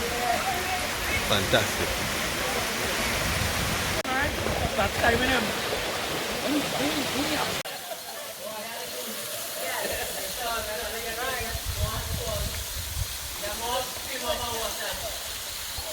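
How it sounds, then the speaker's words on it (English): Rushing water from the first waterfall on the way to Maracas Waterfall, a continuous broad hiss under a person talking over it. "Enjoying the first waterfall before the actual Maracas Waterfall"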